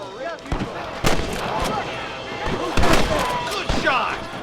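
Several sharp gunshots crack out at irregular intervals during a Red Dead Redemption video game firefight. They are loud and close, with echoing reports and background voices under them.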